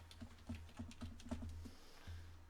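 Rapid keystrokes on a computer keyboard while entering text into a PowerPoint 2016 slide, a steady run of close, light clicks that pauses briefly near the end before resuming, with no voices.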